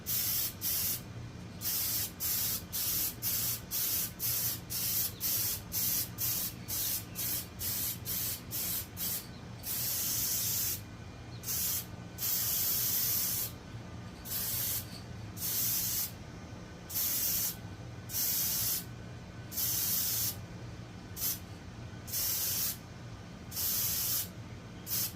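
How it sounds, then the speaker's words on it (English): Aerosol spray paint hisses in repeated short bursts onto a part of a turbocharged Honda CB750 motorcycle engine build, steady and close, with brief pauses between passes that grow longer toward the end. "I spray paint my carpet."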